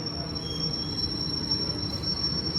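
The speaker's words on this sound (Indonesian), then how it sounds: "Jalur 2 masuk kereta api Kamandaka dari stasiun Purwakarta dengan tujuan akhir stasiun Semarang Tawang" The Kamandaka train pulls into track 2 at Purwakarta station with a steady, loud rumble of wagons on rails. A thin, sustained high wheel squeal runs over it throughout.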